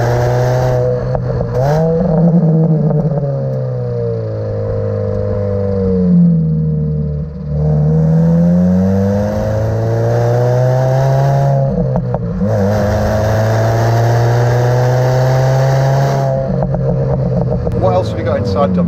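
A supercharged Mini Cooper S Works GP1 engine revs and accelerates through several gear changes on an early-morning B-road drive, loud and close, with a person talking over the engine note.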